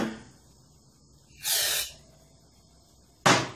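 A portable heater popping in a room where several heaters are running: two sharp, loud hissing bursts, the first lasting about half a second, the second a brief crack near the end, over a faint background hum.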